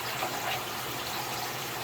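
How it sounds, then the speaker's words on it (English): Spray bottle misting water onto the leaves of a panther chameleon cage, a brief continuous hiss of fine spray, close and steady. "It'll collect water really well when you mist it"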